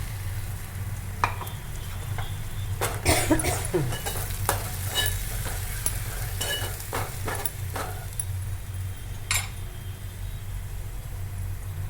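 Ground masala paste frying with sautéed onion in a pan, a continuous close sizzle broken by repeated scraping stirs and utensil clinks, with a low hum underneath.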